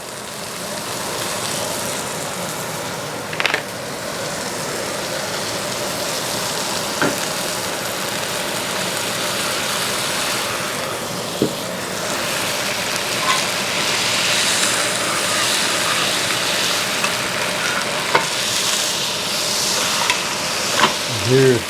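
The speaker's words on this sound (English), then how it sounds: "I'm going to go ahead and add some butter." Meat frying in butter in a cast iron pan, a steady, dense sizzle that runs throughout, with a few brief clicks and knocks of utensils against the pan.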